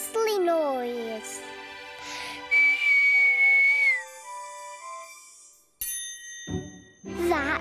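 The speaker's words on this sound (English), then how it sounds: "If we whistle, we can make the stars jingle." Bright whistled tones glide and hold in the Cloudbabies children's cartoon, mixed with twinkly chiming star jingles and sparkly bell-like notes, with a voice briefly near the end.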